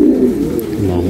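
Domestic pigeons, a pair of Sebastian breed birds, coo softly and continuously at close range, a low steady murmur filling the moment with no speech over it.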